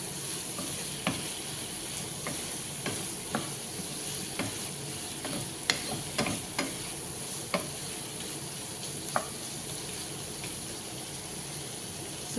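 A little tomato frying in a pan for a potato biryani gives a steady, moderate sizzle and hiss, punctuated by scattered spatula taps and scrapes, close by and with no talking.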